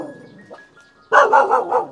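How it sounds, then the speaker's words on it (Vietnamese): Several dogs bark in a quick burst of four loud, close yaps in a rural Vietnamese garden plot planted with banana trees, with quiet background sound before. "Ồ, có mấy con chó cưng quá."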